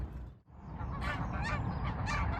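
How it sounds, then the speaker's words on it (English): Geese honk repeatedly on a lake while a swan chases them, several loud overlapping honks after a brief dip, set against steady outdoor background noise. "the old swan's chasing the geese and that around"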